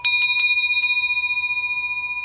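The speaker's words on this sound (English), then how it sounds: "And this big one, which I like best. This is, to me, our church bell." A large cast church bell from the Chantal Foundry is struck several times in quick succession, then one final stroke rings out and hums on, slowly fading with a pulsing shimmer.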